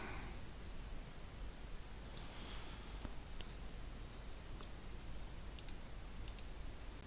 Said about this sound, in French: Donc on clique sur Suivant.